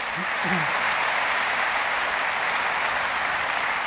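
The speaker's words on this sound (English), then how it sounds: "Just give a big round of applause to all the people that put this together." Audience applause at a Unity awards ceremony, a dense, steady wash of clapping from a large crowd that holds evenly at a moderate level, with a brief voice at the start.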